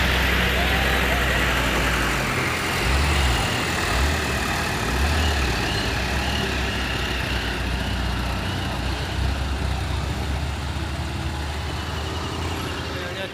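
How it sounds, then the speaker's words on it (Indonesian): Heavily loaded Hino truck engine on a steep climb in extreme weather, a steady, loud low rumble running continuously alongside other traffic noise, with no clear talk over it. "Ini ada satu unit truk Hino yang sangat bermuatan berat."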